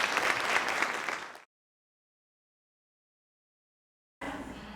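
Audience applause at a motivational talk, a burst of full clapping that cuts off abruptly into silence, then resumes just as suddenly, sounding like an edited break in the clapping.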